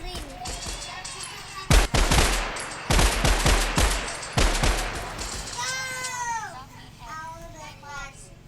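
Bursts of gunfire in a Minecraft game, several loud sharp volleys in quick succession, followed by a child-like voice and meowing cat sounds toward the end.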